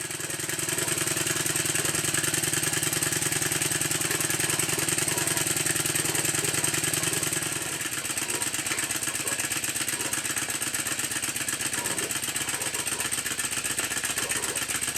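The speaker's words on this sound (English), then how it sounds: "I'll stop talking for a while and let you listen and watch the engine." A rebuilt Stuart 10V steam engine runs steadily in a steam plant, a continuous rhythmic chuffing and mechanical clatter at a constant loudness, slightly softer in the second half.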